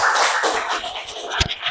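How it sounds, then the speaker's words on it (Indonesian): Classroom clapping for a student group during a teaching assessment, dense overlapping claps from a crowd of students, loud and close, with one sharper thump near the end. "Tepuk tangan untuk kelompok 1"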